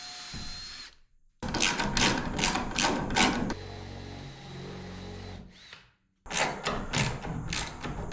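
A power driver sinks a lag bolt through a bracket into a support board while a kayak hoist is installed: several close, rhythmic buzzing bursts with short pauses, ending in a deeper, strained grinding as the bolt tightens.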